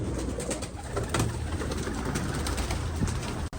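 Pigeons coo steadily against a dense, noisy background, their soft throaty calls repeating throughout with no talking.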